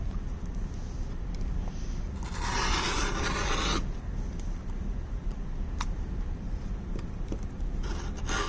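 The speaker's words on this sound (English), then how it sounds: "all I'm going to do is simply trim that off using the rotary cutter" A rotary cutter trimming excess fabric off a sewn infinity scarf, heard as a short, close scraping rasp of about a second and a half over a low background hum, followed by a later brief swipe.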